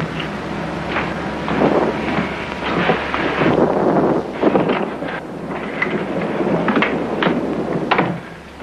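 A thunderstorm with heavy rain, a steady roaring downpour with low rumbling and gusty buffeting throughout, loud and continuous with no voices.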